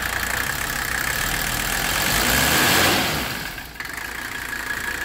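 A car engine idles steadily after its wastegate hose was replaced, with a brief swell in revs midway before settling back to a smooth, close, continuous run, no voices.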